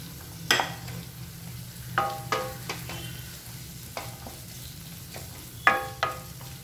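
Small shallots fry in hot oil with ginger, garlic, green chilli and curry leaves for a brinjal curry, a steady close sizzle broken by several scraping stirs of a spatula, with no talking.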